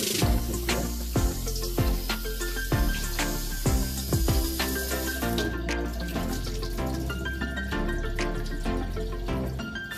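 Water from a tap runs into a pot as rice is rinsed for a Jamaican chicken and shrimp dish, with splashing, clattering grains and metallic knocks in a steady close stream, no voices.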